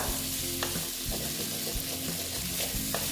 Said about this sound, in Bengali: দেখো মশলাটা প্রায় আমার কষানো হয়ে গেছে দেখো ভালো মতনই কষিয়ে নিয়েছি